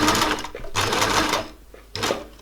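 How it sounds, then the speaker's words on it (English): Sewing machine reverse stitching fabric on a bucket hat, short loud bursts of rapid mechanical whirring broken by brief pauses, close up. "when we get to the end, we're going to reverse stitch again just to hold it in"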